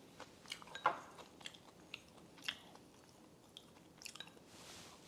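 Someone chewing and biting homemade food, with soft crunches and wet mouth sounds coming in scattered bursts, close up and fairly quiet, no talking.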